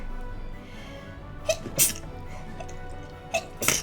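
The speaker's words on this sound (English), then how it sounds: "I'm gonna sneeze" Two sharp, close sneezes burst out about two seconds apart, each with a quick breathy intake before it over a quiet room.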